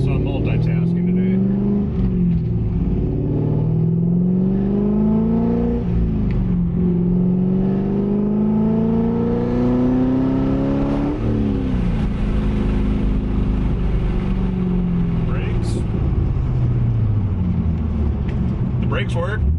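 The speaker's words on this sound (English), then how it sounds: "So we'll fire it up, see if anything improved or otherwise, and go from there." Project C5 Chevrolet Corvette V8 running, its engine revving up and down in repeated rising sweeps with a loud, deep exhaust note that dominates throughout, a voice briefly audible near the end.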